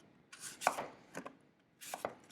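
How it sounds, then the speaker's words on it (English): Apples being sliced thin with a knife on a cutting board, a few separate close slicing strokes and soft taps in two short groups, quiet with no talk. "So just slice these up, try to go a little thin if you can."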